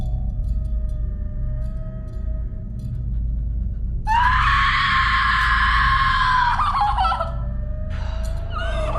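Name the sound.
woman screaming in the horror movie X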